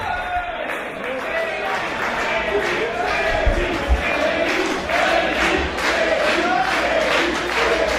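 A wrestling crowd roars behind a wrestler during his match against another wrestler, a steady wall of cheering and shouting that runs throughout, with a commentator talking over it.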